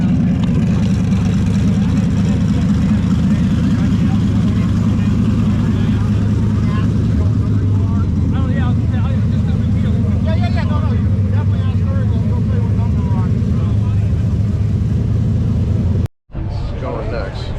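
Car engine running on a dyno, a loud, continuous drone and rumble held steady, briefly cut off near the end before resuming, with voices talking over it.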